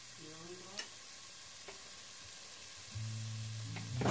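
Carrots drop into a sizzling pot of beef bourguignon, giving a soft steady frying hiss with a few light clicks and a louder sizzle building near the end.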